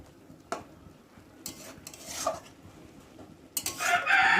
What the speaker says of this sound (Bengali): আর আমাদের মুরগিটা দেখতে পাচ্ছ কেমন ডাকছে।